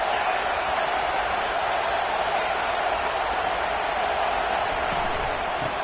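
A football stadium crowd roars as a steady, dense wash of distant cheering and noise aimed at the visiting offense, continuous and unbroken for the whole stretch.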